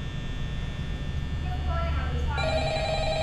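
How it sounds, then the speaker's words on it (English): Ringing phone in the game Five Nights at Freddy's, a repeating electronic ring that starts midway and grows louder over a low steady hum, with no talk during it. "There's a phone ringing."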